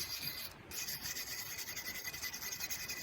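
Steady rubbing and scraping as the mating surfaces of a WoodMaxx wood chipper knife are cleaned, a continuous close rasping texture with only a brief dip partway through.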